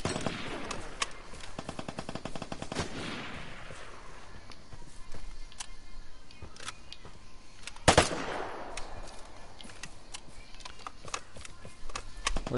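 Machine gun fire in the shooter game Vigor, bursts of rapid shots and sharp cracks, with a loud blast midway and scattered footsteps and clatter, no voices.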